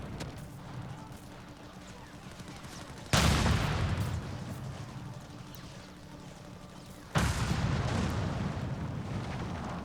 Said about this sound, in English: Oh, I thought I'd got rid of that machine gun nest, perhaps not.